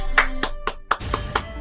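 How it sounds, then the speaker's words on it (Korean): A person claps about six times in quick, even succession, sharp and close, as a celebration during a MapleStory gaming session. "박수"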